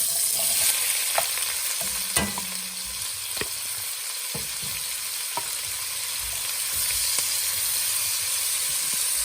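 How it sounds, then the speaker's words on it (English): Onions frying in a pan with bacon fat for keto cauliflower, a steady broadband sizzle throughout with a few sharp utensil scrapes and clinks as they are stirred, close and fairly loud, no talking. "We're gonna add our onions to this."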